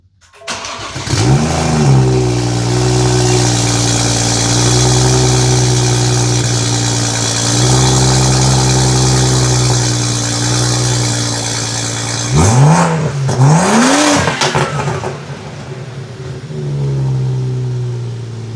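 A BMW M235i engine cranks and fires up loudly, then settles into a steady idle, briefly revving again before dropping back to a smooth idle.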